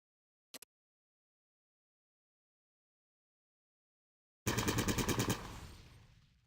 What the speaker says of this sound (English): Target the dummy, and left-click to fire at it